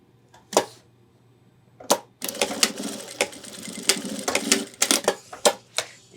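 Sewing machine stitching nylon webbing for a backpack sternum strap, firing in short, sharp bursts of rapid stitches with gaps between them, close and fairly loud, no talk.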